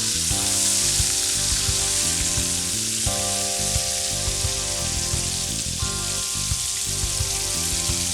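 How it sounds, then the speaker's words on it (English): A pan of food frying in olive oil and butter with rosemary, garlic, salt and pepper gives a continuous close sizzle with occasional light pops and crackles, and no one talks. "I'm going to fry those up. Again, in olive oil, butter, a little bit of rosemary, garlic, salt, and pepper."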